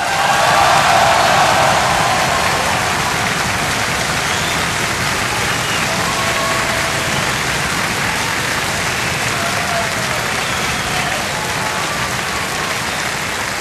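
Sustained applause from a large audience filling a hall at a folk-music television show in Bruck an der Mur, dense and steady throughout, loudest at the start and easing only slightly.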